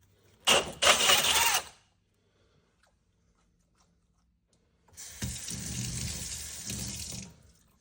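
Water-cooled drill bit cutting a hole for a reverse osmosis system install, heard as two harsh grinding bursts, a short one and a longer one, separated by near silence, with running water mixed into the cutting noise.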